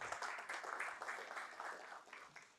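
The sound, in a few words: audience applause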